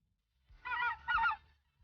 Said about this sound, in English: No time to relax with all the flocks of geese.